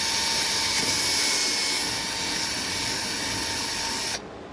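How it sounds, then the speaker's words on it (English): A Milwaukee drill runs steadily while boring into an aircraft wing to fit an LED navigation light mount, a loud continuous whine that holds for about four seconds before cutting off abruptly. "Grabbed my Milwaukee drill and went to work."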